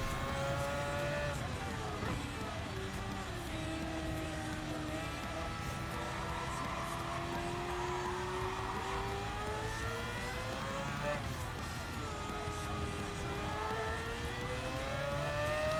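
A race car engine in the video game Gran Turismo 7 drones loudly and continuously on a Group 1 car at Spa, pitch rising and falling through gear changes and corners.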